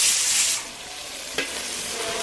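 Tomatoes drop into a pan of frying mutton curry, giving a loud hiss of sizzling oil that settles into a steady, softer fry with a small clatter as they land.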